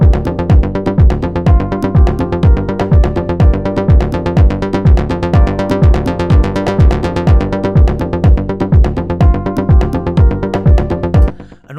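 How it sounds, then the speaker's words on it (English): Italo-disco style synth arpeggio from a Z3TA synth's Italo 80s preset, playing a steady, rapid pulsing note pattern with punchy repeated bass hits, loud and continuous on its own before cutting off at the end. "taken that from the classic Z3TA synth, and it's called the Italo 80s"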